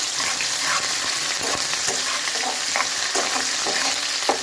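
Curry leaves fry in hot oil for sabudana khichdi, making a loud, dense, continuous sizzle and crackle close up, with faint stirring and no voices.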